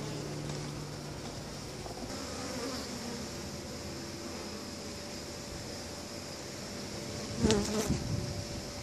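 Steady droning buzz of many honey bees close by, a continuous hum with a brief louder burst of buzzing near the end.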